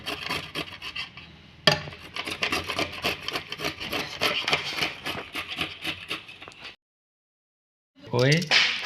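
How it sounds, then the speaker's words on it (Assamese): A carrot is rubbed against a hand grater for a salad, giving quick, steady rasping strokes close up. They run for several seconds, stop abruptly, then resume briefly after a silent pause. "এই গাজৰ এনেকৈ পিহিব, এইখনক কয় পিহনা।"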